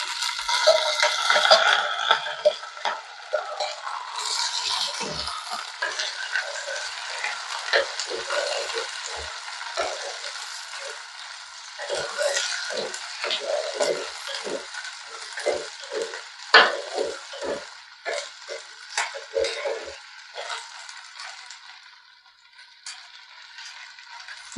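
Onion, coconut pieces, garlic and ginger fry in hot oil with a steady, broad sizzle throughout, joined by frequent clicks and scrapes of stirring and utensil contact.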